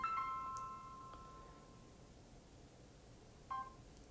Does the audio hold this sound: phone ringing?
yes